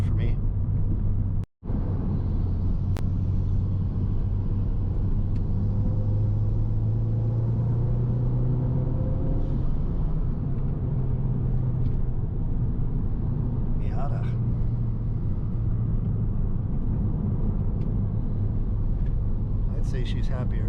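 A Mazdaspeed 3 engine fitted with new CorkSport high-pressure fuel pump internals and a fresh tune pulls under acceleration, a steady loud in-cabin drone rising in pitch, with talk over it.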